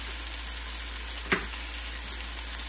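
Ground coriander powder and garam masala frying in a hot pan for chicken rice, a steady dense sizzle throughout with one brief stir or clink midway, no voices.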